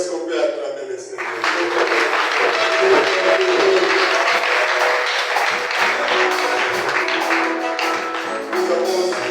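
A church congregation applauding during an Easter resurrection celebration, sustained clapping at a steady loud level for several seconds, mixed with voices and cheering.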